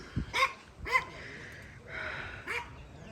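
Dogs kept in a small fenced yard bark in short bursts at a moderate distance, several separate yips and barks spread across a few seconds with quieter outdoor background between them.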